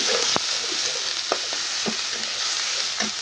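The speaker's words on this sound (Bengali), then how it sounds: "এখন দিয়ে দেবো হচ্ছে পেঁয়াজ বাটা আর রসুন বাটা" Onion and garlic paste sizzles in a hot pan for a beef and potato curry. A steady, loud frying hiss is broken by a few sharp clinks of a spoon stirring.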